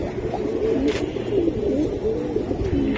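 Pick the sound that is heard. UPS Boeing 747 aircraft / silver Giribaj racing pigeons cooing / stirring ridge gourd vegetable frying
silver Giribaj racing pigeons cooing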